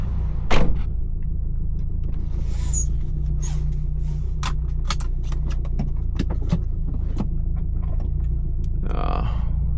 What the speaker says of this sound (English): The one car in like the hour that I've been parked here decides to show up.